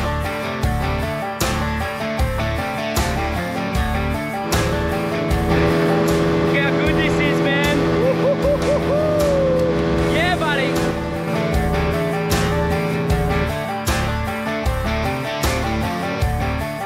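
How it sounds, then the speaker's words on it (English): A boat engine running on the Donnelly River, a loud continuous droning hum with steady tonal layers and shifting pitch that fills the whole stretch. "You guys can hear me over this bloody engine."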